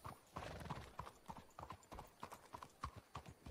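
Horse hooves clip-clop steadily in the video game Red Dead Redemption, a quick regular rhythm of hollow knocks, fairly close and clear, with faint game ambience underneath.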